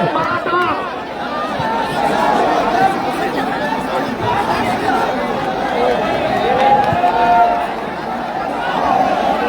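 Dense crowd chatter at a large rally, many voices overlapping in a continuous loud babble with occasional shouts rising above it.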